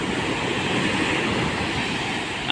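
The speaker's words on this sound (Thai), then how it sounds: "คลื่นแรงมากครับผมไม่ได้คลื่นใหญ่ๆครับผม" Strong sea waves surge up a beach, washing over sand toward felled pine trees near a road; a steady, loud, broadband roar of rushing water fills the whole stretch without a break.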